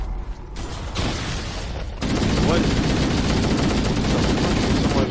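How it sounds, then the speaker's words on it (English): Shotgun blasts and weapon fire in Halo CE ring out loud and close, starting with a few separate shots and then building into a dense, continuous barrage of gunfire. "Shot me with a shotgun."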